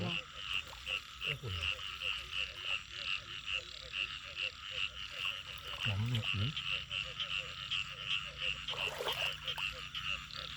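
Large frogs croaking at night in the rain, a steady chorus of rhythmic croaks over a constant insect-like drone, with a few deeper nearby croaks and brief human voices in the background.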